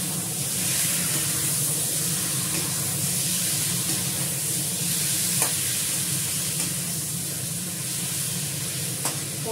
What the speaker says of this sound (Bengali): মাংসটা খুব ভালোভাবে কষে যাচ্ছে